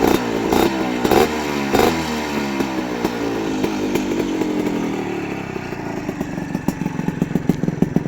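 A dirt bike engine, a Tena off-road motorcycle, runs close by with a steady rough idle, sharp revs and clattering mechanical knocks early on, then settles into a fast, uneven putter.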